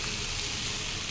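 Okra (lady's finger) frying in a pan, a steady loud hiss of sizzling oil with no pauses, close and alone.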